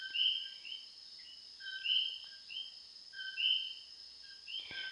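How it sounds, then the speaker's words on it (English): Coqui frogs call at night in the Puerto Rican countryside, sharp two-note chirps repeating every second or so from several overlapping frogs, fairly close and alone in quiet air. "I love hearing the birds in the morning and the coquis at night."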